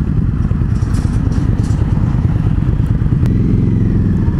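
Indian FTR1200 V-twin motorcycle ridden on a demo ride, its engine a loud, steady low rumble with wind buffeting close to the rider, no talking.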